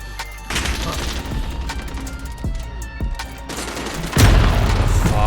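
Rapid automatic gunfire from Call of Duty: Modern Warfare rattles in loud sustained bursts, with single shots and a heavier burst near the end.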